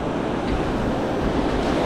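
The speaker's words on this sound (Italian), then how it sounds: "c'è molto vento" Strong wind roars across a sandy sea beach while waves wash in behind it, forming a dense, steady rush of noise with microphone buffeting, loud and constant.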